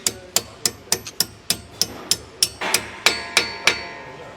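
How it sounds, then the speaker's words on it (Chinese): A small hammer drives a pin into a Range Rover's suspension at the wheel during a repair for a clunk over bumps: about fourteen sharp metallic taps in steady rhythm, close and loud, with no talking. "来个小锤子砸进去"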